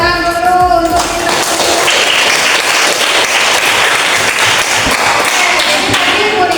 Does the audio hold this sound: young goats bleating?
no